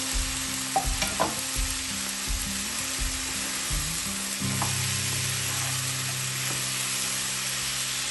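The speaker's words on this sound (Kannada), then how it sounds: "ಮತ್ತೆ ಬೀನ್ಸ್ ಹಾಕೊಂಡು ಚೆನ್ನಾಗಿ ಮಿಕ್ಸ್ ಮಾಡಿ" Beans, potato and carrot sizzle steadily in a frying pan for a palya while a spoon stirs them, with scraping strokes and clattering knocks in the first half, then settling into an even, continuous sizzle.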